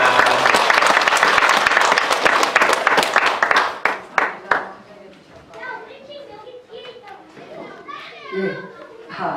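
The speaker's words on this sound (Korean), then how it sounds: "박수로 환영하겠습니다." A church congregation at an evening revival service claps and cheers loudly, the applause fading after a few seconds into scattered voices and murmuring.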